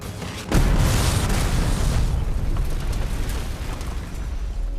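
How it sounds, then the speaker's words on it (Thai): A truck explodes in a sudden heavy boom in the series The Last of Us, followed by a long rumbling roar that slowly fades. "ต่อจากนั้นรถบรรทุก ก็ระเบิดอย่างรุนแรง"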